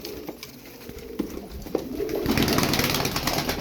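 Blue pigeons in a loft cooing softly amid a busy rustling background, with faint low burbling calls mixed into steady ambient noise that grows louder toward the end.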